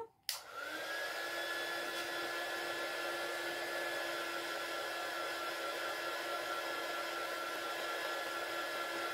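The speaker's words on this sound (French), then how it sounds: "vous mettez un petit coup de heat gun" A heat gun dries paint on a craft tag, clicking on and then holding a steady, airy blowing whine with a faint tonal hum, close and constant to the end.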